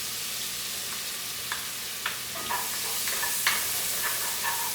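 Onion and garlic sizzle in a pan with linguiça, a constant frying hiss marked by repeated light scrapes and taps as the mixture is stirred.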